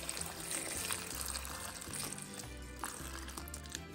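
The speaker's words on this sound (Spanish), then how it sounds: "Y ahora vamos a echarle el agua." Water poured into a pot over chiles de árbol, tomatoes, garlic cloves and a quarter onion for salsa, a faint steady pouring wash under low rumbling background with no talk.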